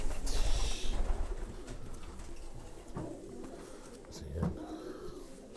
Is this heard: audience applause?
no